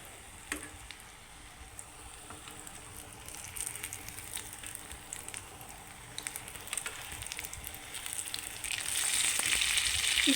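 Potato tikki kebabs fry in oil with a gentle, steady crackle and occasional pops; the sizzle grows louder and brighter toward the end.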